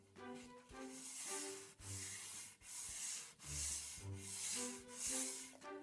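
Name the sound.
hand sanding a wooden iPad box finish with sandpaper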